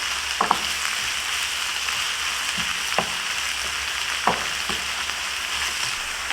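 Onions fry in olive oil in a pan over medium heat, giving a steady close sizzle with a few soft clinks of stirring.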